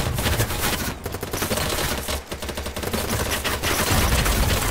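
Video game gunfire crackles in sustained, rapid bursts, loud and close, with brief gaps between volleys and no speech.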